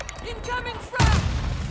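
A frag grenade explodes in Call of Duty MW2 multiplayer as a sudden loud, close boom about one second in, following game voice lines and a player talking over the match.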